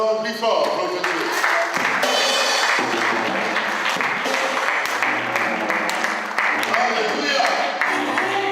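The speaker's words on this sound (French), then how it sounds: "Les acclamations plus fort pour le Dieu." A Pentecostal congregation at an Assemblée de Dieu service in Lyon cheers and claps for God, with loud, sustained clapping mixed with shouting, singing voices and music for the whole stretch.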